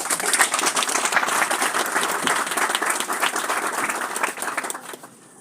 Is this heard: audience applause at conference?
yes